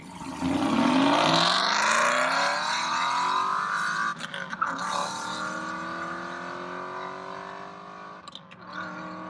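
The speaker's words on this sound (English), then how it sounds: "Rev it, baby." A loud V8 engine revs hard with rising harmonic tones, holding at high pitch before brief dips and blips near the end; no talking.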